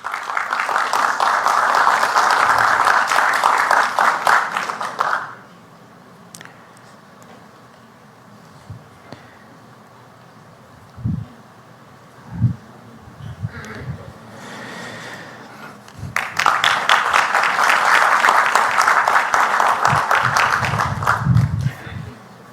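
Applause for the speakers at a legal lecture on division and partition, sustained clapping from an audience at the start, then a quieter stretch with scattered sounds, and a second burst of clapping near the end.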